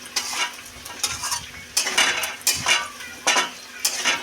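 A spoon scrapes and clinks against a pan while onions fry until reddish, the bursts of stirring repeating at a steady rhythm over a soft, continuous sizzle.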